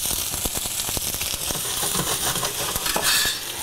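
Chopped onion fries in olive oil in a pan for a beef stew: a steady, close sizzle with scattered crackles and light scraping as it is stirred.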